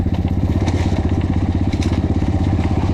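A KAYA 512 motorcycle runs on a test ride, its engine close and loud with a fast, even thumping pulse and a gritty mechanical rattle, steady for the whole stretch with no talk.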